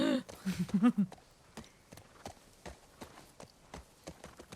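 Rhythmic horse hoofbeats in the video game The Last of Us Part II, set in Seattle, clop steadily at a walking pace, with a burst of voice-like sound at the start before the regular clip-clop continues alone.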